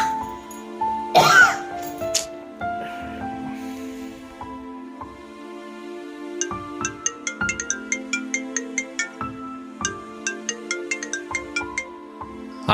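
Ringtone from a phone announcing an incoming call, repeating in a steady rhythm of short bright chiming notes over several seconds, preceded by a brief cough or throat clearing at close range.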